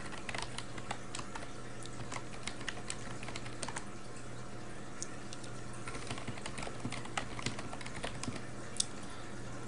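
Steady typing on a computer keyboard while setting up a user account, with continuous quick key clicks at an even pace over a constant background hum, close and alone with no voices.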